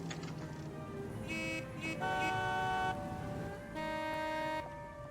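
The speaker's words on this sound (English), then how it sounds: "stop honking" Car horns in L.A. Noire honk in several long, sustained blasts, some overlapping, over steady city traffic noise.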